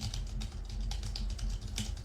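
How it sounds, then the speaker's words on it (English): Rapid continuous typing on a computer keyboard, close and fairly quiet, with evenly spaced clicky keystrokes and no voices. "the sounds of your keyboard keystrokes over Zoom"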